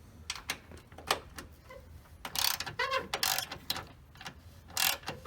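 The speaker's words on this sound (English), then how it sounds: "A 10mm socket does the trick." A 10mm socket on a ratchet loosens the battery hold-down on a Lexus RX300, giving bursts of close, crisp clicking ratchet strokes separated by short pauses and metallic scraping, with no speech.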